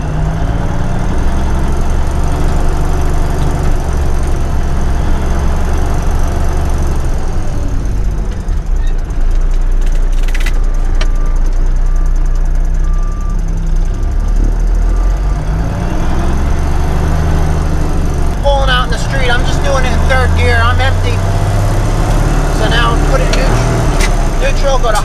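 A 10-wheeler dump truck engine runs in low range while turning around in a yard, a steady, loud low rumble throughout with a person talking over it.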